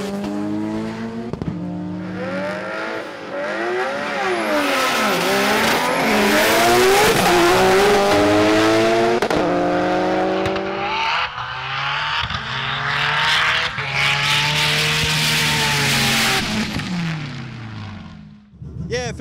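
A Nissan R32 GT-R at a drag racing event launches and accelerates hard, the loud engine note climbing and shifting repeatedly through rising sweeps over crowd noise and commentary.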